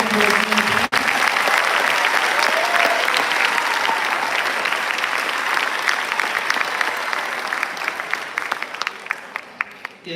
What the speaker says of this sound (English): let's have a round of applause for all the ensembles you saw tonight